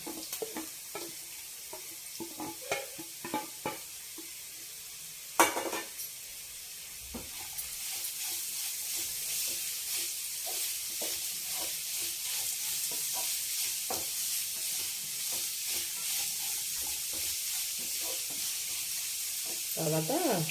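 Carrots tumble into a pan of onions and green chilies frying for foxtail millet upma, a loud sizzle building after a few stirring clatters and holding steady, with a voice talking over it now and then.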